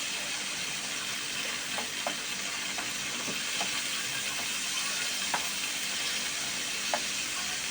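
A slice of liver frying in a pan with a little oil, a dense steady sizzle held close throughout, with faint occasional pops and ticks from the pan.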